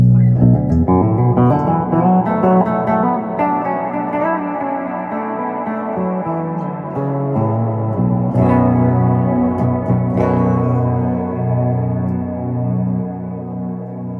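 Electric guitar played clean through a Barton High Voltage Paladin 200 amp with a little reverb, ringing sustained chords and notes with a spacious echoing tail.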